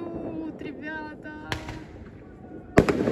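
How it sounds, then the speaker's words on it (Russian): New Year fireworks salute bursting outdoors, with two sharp loud booms and crackle amid festive voices and cheering at a home celebration. "У нас салют, ребята!"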